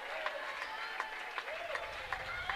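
A high school basketball crowd applauding and cheering a player reaching a career scoring milestone, steady dense clapping from a gym audience throughout.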